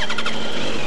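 A 2015 Yamaha YZF R1M sport motorcycle engine runs steadily and loud up close, a brief continuous mechanical drone with a slight rising whine, no voices.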